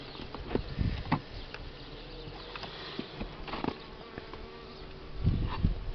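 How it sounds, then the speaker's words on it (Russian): A dense, steady buzz of many starving honey bees at a hive in March fills the scene, with scattered louder bursts as individual insects pass close by. "Повылазили с ячеек пчелы с голодных."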